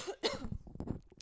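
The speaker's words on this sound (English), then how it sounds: "Just blew your eardrums out with that cough." A single harsh cough bursts out close to the microphone, followed by a couple of throaty catches and rough breaths, with no speech.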